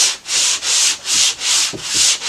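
An electric sander works over wood at a cabin, its loud, close whirring rising and falling in even back-and-forth sweeps, with no voices.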